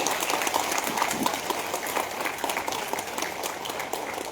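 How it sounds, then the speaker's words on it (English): Steady, faint applause from an audience at an installation ceremony, continuous even clapping at a distance with no voices. "you have to give your claps to him"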